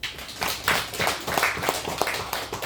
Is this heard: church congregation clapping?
yes